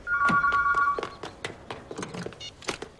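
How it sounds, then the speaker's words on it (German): An electronic telephone rings in a room, a steady warbling tone for about a second, followed by scattered clicks, knocks and light handling noises. "Das Telefon."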